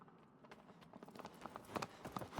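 A horse's hooves in Shadow of the Colossus clip-clop faintly in an irregular, quickening rhythm, growing a little louder toward the end against quiet game ambience.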